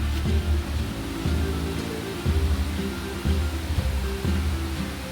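A village waterfall roars as a steady, loud, unbroken rush of falling water that fills the scene throughout, with no voices.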